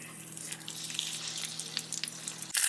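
Tri-tip steak searing in a smoking-hot cast iron pan with avocado oil, a soft crackling sizzle with scattered pops over a low hum, ending in a sudden louder burst of hissing.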